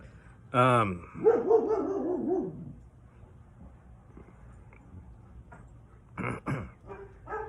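Dogs bark in a quick burst of several yips and whining barks, then a couple more sharp barks a few seconds later, moderately loud against a quiet background.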